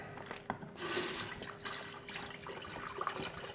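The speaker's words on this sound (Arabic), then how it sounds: "ها هو نديرو فيه الماء." Water is poured into an electric kettle, a steady close splashing and trickling stream lasting a few seconds at moderate volume, with no talking.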